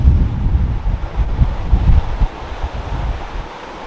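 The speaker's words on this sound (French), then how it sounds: "Le vent est monté de 15 nœuds en 1 minute" Strong squall wind and waves at sea aboard a sailboat, heavy gusting rumble and wash buffeting close to the microphone, surging and easing over a few seconds without voices.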